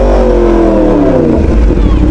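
A Yamaha Aerox motor scooter revs loudly up close, its engine note climbing and holding strong throughout with no pause.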